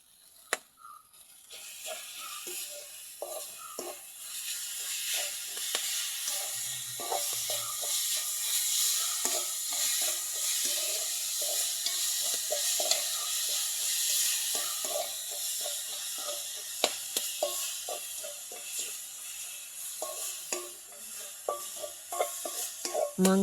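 Grated coconut stirred into bubbling sugar syrup with vanilla in a pan while making kurahan halapa, a steady soft sizzle and bubbling with repeated scraping stir strokes throughout.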